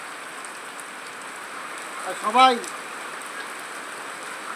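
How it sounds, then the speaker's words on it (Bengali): Rain falls outdoors as an even, steady hiss, with a voice briefly speaking over it midway. "ভিজতেছি আকাশের বৃষ্টিতে"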